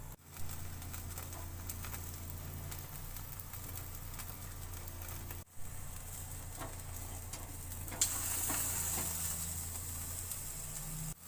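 Chicken tikka cooking on a grill gives off a steady, faint, hissing sizzle that runs throughout, with a few small ticks and one brief break in the middle.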